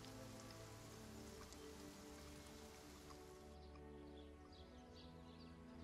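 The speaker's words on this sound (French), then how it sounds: "regarde, oh, il pleut" Steady rain patters continuously on a surface in Divinity: Original Sin video game, an even hiss of drops with no voices, which dulls slightly partway through.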